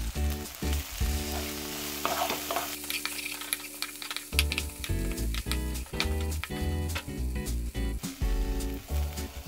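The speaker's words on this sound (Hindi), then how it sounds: "कसूरी मेथी, डालने से पहले गरम तवे पे थोड़ा भून लें ताकि क्रिस्प हो जाए" Kasuri methi crackles on a hot tawa, a dense close sizzle broken by rhythmic scraping and stirring strokes, with a few louder clatters as the leaves are turned.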